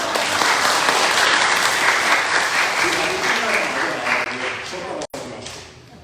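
Steady, dense applause from a church congregation welcoming a returning member at a worship service, holding even for about five seconds before a brief break and a tapering finish.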